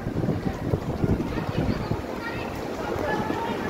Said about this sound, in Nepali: यहाँ गान्तोकको पुरा हावा बतास चल्दैछ है